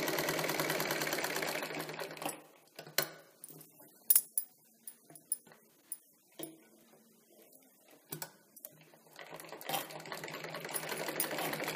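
Sewing machine double-stitching a katori blouse seam, a steady whir at first that breaks into short stop-start bursts with clicks and clinks in between, then picks up again near the end.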